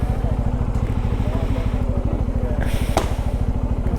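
Motorcycle engine close by at a low, even idle-like putter as the bike pulls in to park on a hill-station road in Yercaud, Tamil Nadu, with a voice speaking over it.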